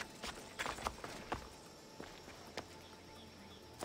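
Sparse, faint hoofbeats from a horse in the video game Assassin's Creed Odyssey, a few irregular clops spaced apart over quiet ambience.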